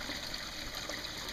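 Rainwater flows steadily from a rain harvesting diverter, a continuous close trickling and gushing stream with no voices.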